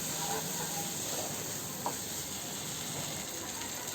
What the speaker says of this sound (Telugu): దీంట్లో కొద్ది వాటర్ పోసుకుందాం.